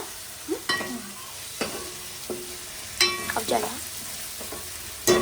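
Food with turmeric is stirred in a pan, a low background sizzle punctuated by scattered metallic scrapes and clinks of a spoon against the pan, close and intermittent, without voices.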